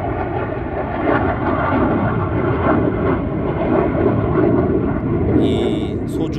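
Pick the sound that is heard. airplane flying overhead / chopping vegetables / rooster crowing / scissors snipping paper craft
airplane flying overhead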